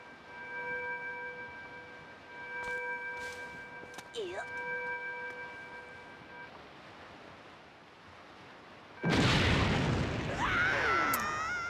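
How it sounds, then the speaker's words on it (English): In a Legend of Zelda: The Wind Waker cutscene, sustained tones and a whooshing swoop give way to a sudden loud explosion near the end, a heavy rumbling burst with falling debris-like sweeps. "Delayed explosion."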